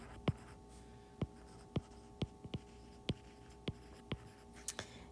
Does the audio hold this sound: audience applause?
no